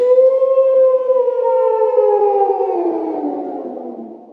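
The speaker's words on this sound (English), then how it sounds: "A wolf." A single long wolf howl sounds close and loud, its tone holding steady and then gliding slowly downward as it fades over about four seconds.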